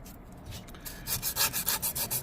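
Abrasive grit rubbed by hand over a scored chainsaw cylinder from an Ebay 372 XTorq, starting as faint scraping and then settling into a steady run of about eight loud, rhythmic rasping strokes, close up with no talking.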